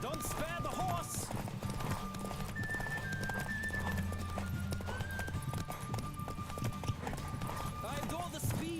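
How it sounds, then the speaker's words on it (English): Horse hooves clip-clop at a gallop in The Witcher 3, with a horse whinnying now and then; the steady hoofbeats run throughout under a continuous bed of game music and talk. "Faster. Don't spare the horse!"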